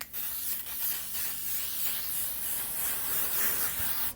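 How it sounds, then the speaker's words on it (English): A fine setting mist sprays onto a face in a long continuous hiss, close and fairly loud, with slight pulsing bursts as the pump is pressed repeatedly. "It's like basically spraying hairspray on your face."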